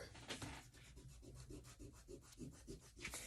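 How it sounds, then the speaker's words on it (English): An eraser rubbing out a pencil line on paper during a children's collage art lesson; quick, soft back-and-forth scrubbing strokes repeat in an even rhythm, close and faint. "We can now erase this if we want with a good eraser."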